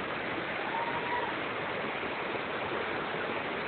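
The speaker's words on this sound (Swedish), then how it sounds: "Väg mot ett fint vattenfall." A fine waterfall along a forest path, heard as a steady, dense broadband rush of falling water that holds evenly throughout with no break.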